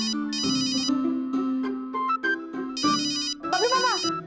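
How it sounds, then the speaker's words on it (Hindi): An electronic phone ringtone chimes close by, melodic notes alternating with buzzy trilling bursts, with a voice briefly heard under it. "फोन उठाइए, फोन बज रहा है"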